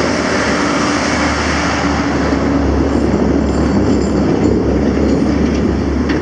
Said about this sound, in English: Here comes one of those huge road trains.